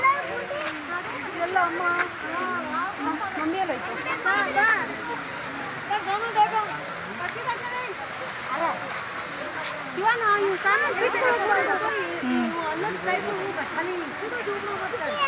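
Water falls and flows at a waterfall, giving a steady broad rush with splashing throughout, while people talk nearby over it.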